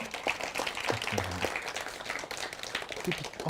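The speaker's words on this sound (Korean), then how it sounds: "큰 박수 한번 부탁드릴게요" Audience clapping at the close of the final team presentation at an AI service developer course project showcase, a moderate, steady patter of many hands with low murmuring voices underneath.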